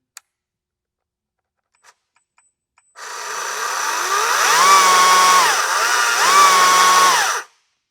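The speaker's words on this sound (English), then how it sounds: "An MSA 60 battery chainsaw, a variable throttle." A few faint clicks, then a STIHL MSA 60 battery chainsaw with variable throttle whirs up loudly, its pitch rising and dipping twice with the throttle before cutting off abruptly.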